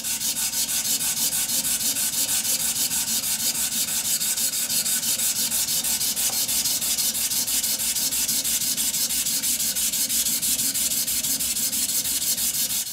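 Hand burnishing tool rubbing and compacting the brass bell of a trumpet in a workshop, a steady, continuous scraping rub that stays close and even with no pauses or talk.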